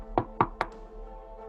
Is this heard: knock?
yes